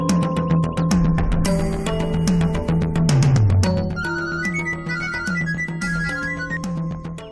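A mobile phone ringtone plays loudly and continuously after a call is placed, a melodic repeating electronic tune with layered tones and no talking.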